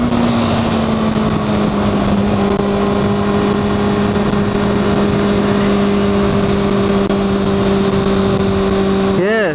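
Kawasaki Ninja motorcycle engine droning steadily while being ridden, a loud continuous tone with wind noise, holding pitch with a slight rise near the end.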